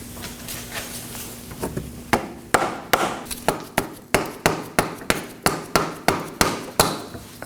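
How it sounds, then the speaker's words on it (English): A series of sharp, evenly spaced dead blow hammer blows on the end of a front CV axle shaft of a 2018-2024 Chevrolet Equinox, about a dozen strikes in a steady rhythm, close and loud over a low background hum. "I'm gonna hit the axle on the head of the shaft with a dead blow hammer"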